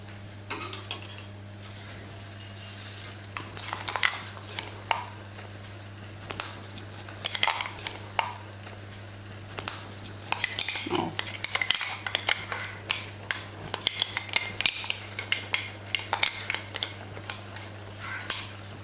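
Vegetables for Kerala avial are stirred with salt and ground masala in a pan: quiet, intermittent scrapes and clinks of a spoon, busier toward the end, over a low steady hum.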